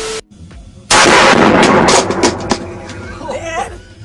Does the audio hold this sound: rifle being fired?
yes